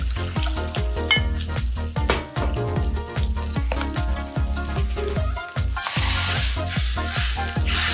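Water is poured into hot oil with fried hilsa fish for a curry, raising a loud, continuous sizzle over background music that surges brighter toward the end.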